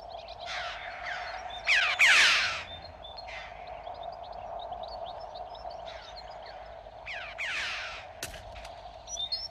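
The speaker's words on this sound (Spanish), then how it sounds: "el cuervo, llamado también cuervo carnicero, se entrega a sus vistosos vuelos nupciales" Common ravens calling during winter courtship flights, a few harsh croaking caws rising now and then over a steady low background hum, moderately distant, no voices.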